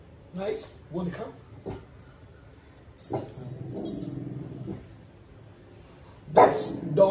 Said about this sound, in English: Barking for no rhyme or reason.